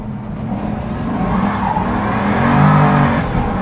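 Pagani Huayra twin-turbo engine pulling hard on a winding Italian road, a loud sustained roar that swells in pitch and volume as the turbos spool up, heard from inside the car with no voices.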